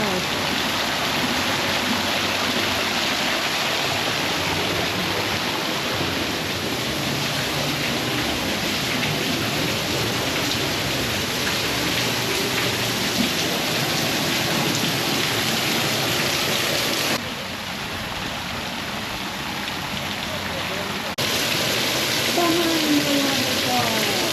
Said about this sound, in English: I spy a waterfall.